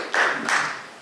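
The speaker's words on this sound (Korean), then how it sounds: "뜨거운 박수로 환영해 주시기 바랍니다." Brief scattered clapping from a chapel lecture audience welcoming a speaker at a seminary graduate school; a couple of moderate bursts that fade quickly, with no talk.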